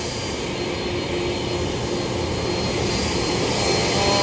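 Two jet airliners, a JetBlue and an Iberia, take off from runway 8 at San Juan airport, a steady loud jet engine roar that builds slightly, heard from nearby with no talking.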